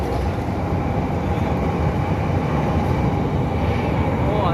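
A steady rumbling whoosh of a passing light rail train, heard from under a bridge in Indonesia, fills the scene, dense and continuous at close range with no break.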